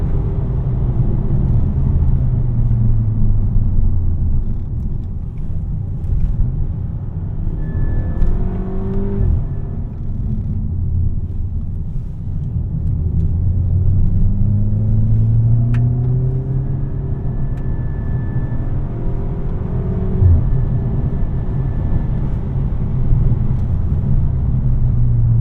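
A VW Mk6 Golf GTI with DSG gearbox hums steadily from the cabin while driving through curves, its engine note rising and falling in pitch with several climbs in revs over constant road rumble.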